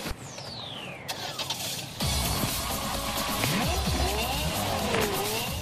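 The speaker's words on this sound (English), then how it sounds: "Okay, we're driving the Range Rover Sport." Range Rover Sport being driven, with engine and road noise from inside or near the car, shifting pitch sweeps and rising intensity after the first two seconds.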